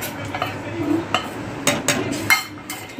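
A spoon stirs a mixture of milk, milk powder and custard powder in a pot for homemade ice cream, giving scattered scrapes and light clinks against the metal, close by with a soft background hum.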